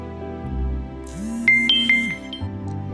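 A phone plays a short melodic SMS notification tone, a few bright chiming notes rising over a soft electronic backing, close and clear with no talking.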